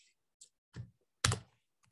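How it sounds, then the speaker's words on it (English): Computer keyboard keys pressed one at a time while a password is entered, four or five separate close clicks spaced unevenly across two seconds in a quiet room. "Always look at what you're typing."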